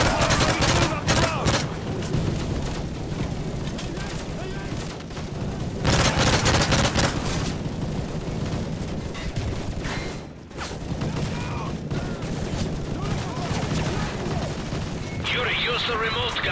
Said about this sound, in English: Those MGs are tearing us apart!